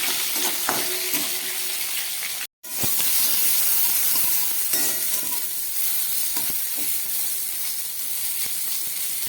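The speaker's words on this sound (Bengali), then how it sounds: "খুব বেশি ভাজবো না কয়েক সেকেন্ড ভেজে দিই" Steady sizzling hiss of fish frying in oil in a pan for a Bengali koi fish curry, continuous and fairly close, with a short gap and occasional faint clicks, no voices.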